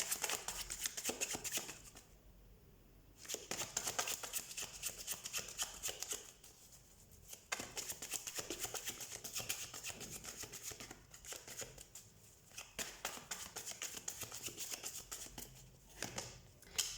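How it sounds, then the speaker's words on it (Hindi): Tarot cards are shuffled close up in repeated bursts of rapid riffling and patter, separated by short quiet pauses, with no talking. "सबसे पहले हम कार्ड शफल कर लेते हैं।"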